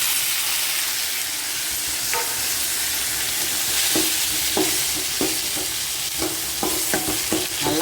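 Two tomatoes fry in a pan with cumin and pepper, giving a steady close sizzle and hiss while a spoon scrapes and stirs in a run of quick clicks.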